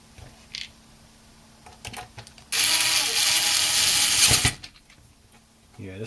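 A small handheld drill runs at a single fixed speed while the fan of a cheap, thin-cased FSP power supply is being lubed, giving a loud, steady whir for about two seconds between quieter clicks and handling noise.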